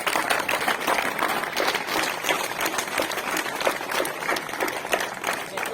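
An audience at a Kargil Vijay Diwas ceremony in Dalhousie bursts into dense, sustained applause, many hands clapping loudly and evenly throughout without pause.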